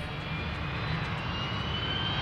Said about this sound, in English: It's an airplane!